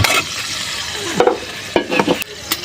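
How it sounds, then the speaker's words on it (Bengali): Onion and green chilies hit hot oil in a pan for Korean spicy noodles, with a loud continuous sizzle broken by a few sharp clinks and scrapes of stirring. "তেল দিয়ে দিছি, এখন দেবো হচ্ছে আপনার পেঁয়াজ আর হচ্ছে কাঁচামরিচ দিয়ে দিলাম"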